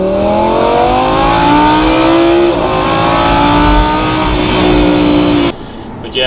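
An Audi R8 V10 Spyder with an S-tronic gearbox revs hard in repeated rising sweeps, each pull climbing steeply before a shift. The engine is loud, close and alone, and its sound drops away sharply right at the end.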